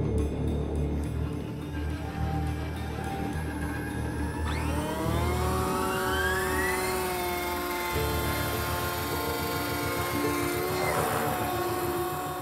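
A small model helicopter's motor whines up steadily in pitch as the rotor spins up, loud and close, with a continuous whirring drone.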